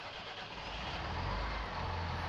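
A tractor engine in Farming Simulator 19 cranks and catches, then settles into a low, steady rumbling idle that grows slightly louder and fuller, close and continuous with no voices.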